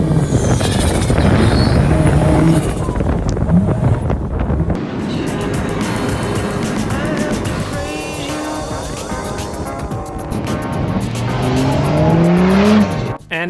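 A Nissan TD42-engined 4WD climbs a steep off-road hill track on new tyres, engine revving loud and close with strained bursts, a brief drop, then a hard rising rev near the end; wind buffets the microphone throughout.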